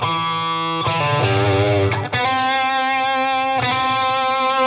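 A Fender Telecaster Deluxe Thinline electric guitar played through distortion, loud sustained chords with a few attacks and ringing overtones, no talking over it.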